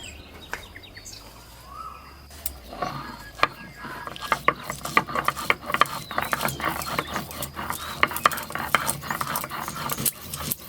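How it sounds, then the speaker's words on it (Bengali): Rough, rhythmic scraping and clacking of a traditional Bengali grinding stone (sil) crushing cooled ingredients for a potol peel paste, repeated strokes growing steadier and louder, with birds and a dog audible in the background. "এটা এবার শিলে বেটে নেব"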